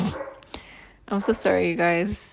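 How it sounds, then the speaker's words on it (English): A dog barks indoors, a few sharp yips and barks mixed in under someone speaking apologetically close to the microphone. "my dog is barking right now"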